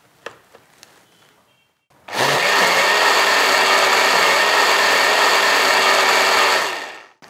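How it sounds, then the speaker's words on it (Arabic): A kitchen blender runs loudly and steadily for about five seconds, mixing omelette cupcake batter of eggs, black pepper and olive oil, after a few faint clicks and knocks, then winds down to a stop. "في الخلاط"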